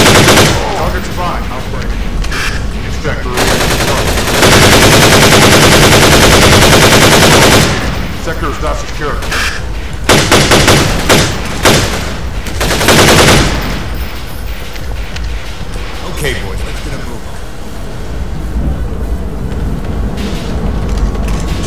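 Gunfire in the Half-Life 2 mod 1187: loud bursts of automatic weapon fire, with sustained rattling volleys and scattered sharp shots through a fierce firefight.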